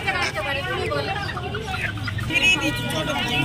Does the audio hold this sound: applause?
no